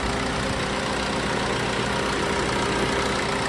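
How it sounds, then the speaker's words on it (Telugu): A diesel Maruti S-Cross Zeta from 2015 idles with a steady, even engine hum and a low drone, close by and unchanging, with no talking. "ఇంజన్ చూడొచ్చు ఇంజన్ మాత్రం సైలెంట్ ఉందండి"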